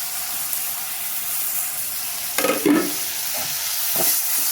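Chopped tomato is stirred into sautéed onions in a pan, making a steady low sizzle with a cluster of scraping, clattering spatula strokes in the middle and a lighter stir near the end.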